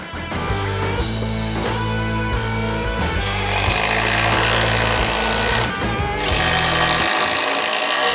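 A Milwaukee Surge hydraulic impact driver runs loud and close with a buzzy, pulsing whir that continues steadily for several seconds, then cuts off near the end.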